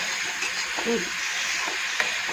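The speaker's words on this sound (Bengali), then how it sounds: "আর এদিকে চিচিঙ্গা ভাজা বসিয়েছি" A snake gourd frying with onion in a pan gives a steady, close sizzle and hiss throughout, with a light stirring clink near the end.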